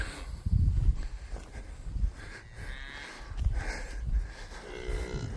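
Cattle on a farm, cows and a late-March calf among them, give several low moos, one near the start and more through the middle, while hooves shuffle and step nearby, close and loud.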